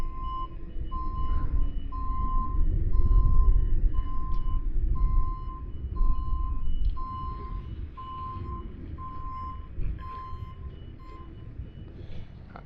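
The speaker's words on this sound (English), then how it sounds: "George is currently loading a load of oats with the JCB onto a lorry." A JCB loader works on a farm, loading oats onto a lorry, its reversing alarm beeping in a steady, evenly spaced series over a low engine rumble that swells and fades.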